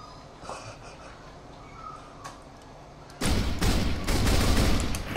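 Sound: user-made gun firing in Voxelnauts video game

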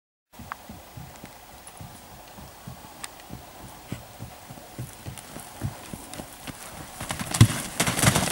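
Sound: pony hooves clip-clopping over cross-country course

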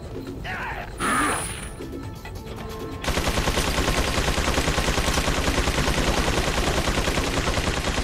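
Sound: gunfire in video game Resident Evil 4

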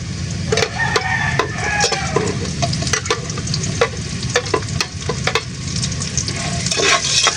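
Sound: onion frying in a pan

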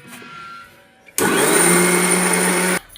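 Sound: mixer grinder grinding spinach with cumin and water

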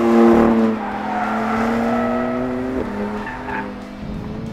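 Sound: BMW twin-turbo 3-litre car driven hard, tyres squealing

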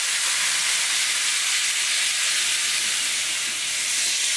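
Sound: risotto simmering in chicken stock

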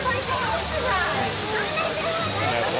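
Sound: waterfall

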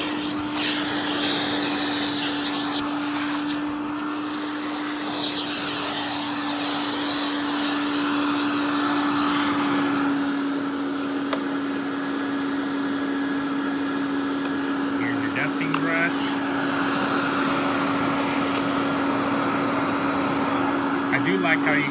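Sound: Royal Classic Power Team 4650 canister vacuum running

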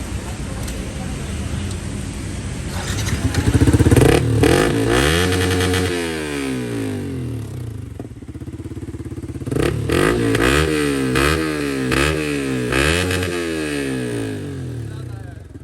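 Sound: motorcycle engine revving with Akrapovic exhaust and dB killer

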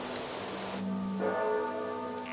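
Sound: church bell ringing

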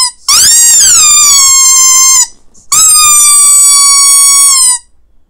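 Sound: loud squeaker of a movie-accurate Wheezy toy penguin

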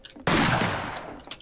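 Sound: gunshots in the video game Red Dead Redemption 2

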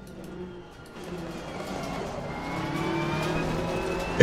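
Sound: Ferrari race car engine in Assetto Corsa Competizione video game

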